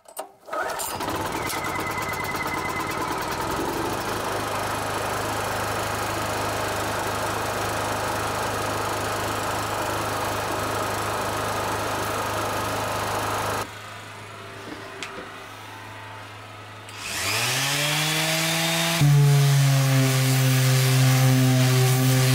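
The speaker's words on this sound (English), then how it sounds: "it's time to sand the toilet seat area so we don't get any splinters" A power sander working on the wooden seat area of an off-grid compost toilet, a loud steady whirring drone that cuts out briefly before spinning back up with a rising whine.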